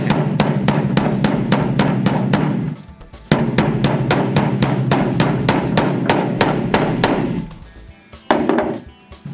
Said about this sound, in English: we're going to hammer down the ears of the buckle to complete that